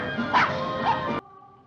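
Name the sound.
dog barking, stopped from digging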